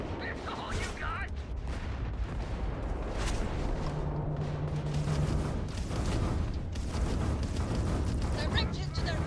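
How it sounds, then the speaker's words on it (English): Explosions from direct hits in a Starfield space battle: a sustained, booming wash of blasts and rumbling gunfire that stays loud throughout, with brief bursts rising out of it. "Direct hit to their grab drive."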